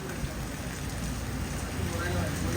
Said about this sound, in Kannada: ಒಟ್ರಾಸಿ ಮಳೆ ಬರ್ತಾ ಉಂಟು.